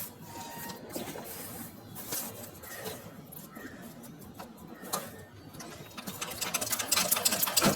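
A sewing machine stitches straight lines on paper during a tailoring practice session, running in close, rattling bursts with brief pauses, then speeding into a longer, louder run.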